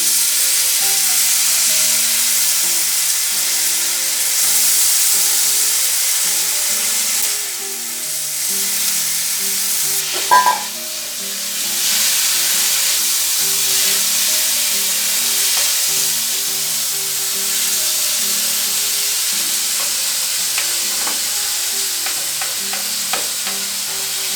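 Soaked moong dal fries in a hot pan, a bright continuous sizzle with steady stirring scrapes, a brief louder clatter midway and light clicks toward the end, over a soft background melody.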